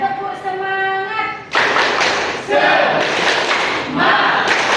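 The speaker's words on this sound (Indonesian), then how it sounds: "1, 2, 3, tepuk semangat." A classroom of students performs the 'tepuk semangat' spirit clap chant, bursts of loud group clapping and shouting arriving in several waves after a sustained chanted tone.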